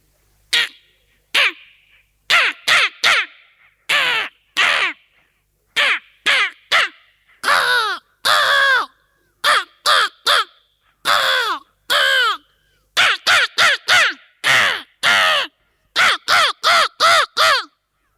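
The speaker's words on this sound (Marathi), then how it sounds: "कावळ्याचे बघा हे बारा आवाज आहेत त्यातले एक दोन तीन आवाज दाखवणार आहे" Loud, harsh crow caws in rapid bursts and series, close by, with short silences between groups of calls, in Chandoli National Park.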